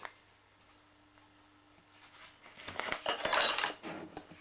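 A spoon stirs cake batter with sugar, desiccated coconut and eggs in a bowl for a cricket-themed cake. After a quiet start, soft scraping and clinking rise and grow busier toward the end.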